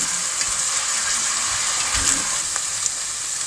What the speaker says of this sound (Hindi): प्याज हमारे हल्के हल्के से फ्राई हो गए हैं, नरम हो गए